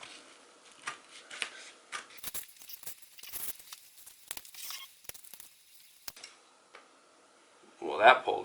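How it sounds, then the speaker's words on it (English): Scissors trimming excess upholstery fabric while recovering an office chair: a series of sharp, close snips and crisp cutting clicks at an uneven pace, with quiet gaps between cuts and a brief louder rustle near the end. "Just take some scissors or a box knife or whatever you got, and you can trim that off."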